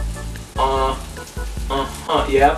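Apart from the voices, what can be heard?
sugar sizzling on chicken in pan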